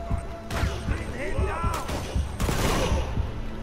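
Gunfire in Uncharted 2: Among Thieves, a third-person shooter, in a tropical paradise setting: repeated close sharp shots and bursts with ricochet-like whines and impacts over dense battle noise, with a voice talking intermittently.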